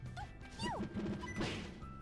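Down smash attacks land in Super Smash Bros. Melee, a few sharp hit impacts near the middle of a short stretch of busy game audio with music and effects underneath.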